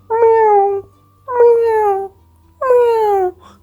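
A cat meows three times in a row, each call loud, drawn-out and falling in pitch, with short pauses between them and a low steady hum underneath.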